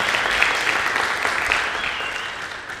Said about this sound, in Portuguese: dar um forte aplauso para a gente acolher as pessoas na transmissão